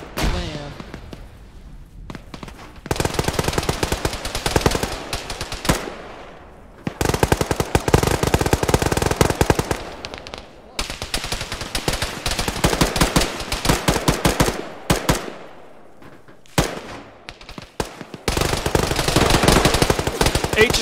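Heavy machine gun fire in the military game Arma rattles in long sustained bursts separated by short pauses, loud and close, with thumping impacts between volleys.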